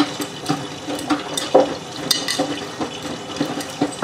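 Inside a Miele W562 washing machine on a Minimum Iron 30ºC rinse with Short and Water Plus, water sloshes and splashes in irregular surges as the drum turns, close and moderately loud, with no voices.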